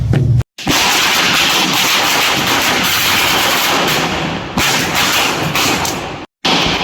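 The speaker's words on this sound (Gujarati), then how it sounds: "એને ફટાકડા ફોડવાની શરૂઆત કરી દીધી છે." Diwali firecrackers burst in a loud, dense crackling barrage that runs almost without a break, cut by a couple of brief silent gaps.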